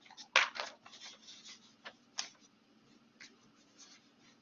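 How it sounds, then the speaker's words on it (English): Pen or pencil scratching on paper in short irregular strokes, close and soft over a faint steady hum, with no talking. "I have to write it down."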